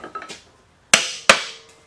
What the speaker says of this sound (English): So I grab my mallet